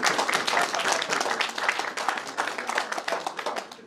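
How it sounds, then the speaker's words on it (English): Audience applause at a talk on being the CEO of your own life: dense, lively clapping from a full room, sustained and fairly loud throughout, with no voices over it. "I would request all of you to give him a big round of applause"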